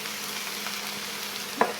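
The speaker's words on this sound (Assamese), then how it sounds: "এয়া মোৰ পিঁয়াজ ভজা হৈ গ'ল। এতিয়া মই ইয়াত বিলাহী দিম।" Tomato goes into onions already frying in a pan for an Assamese fish curry, and a steady close sizzle hisses throughout, ending with a short clink.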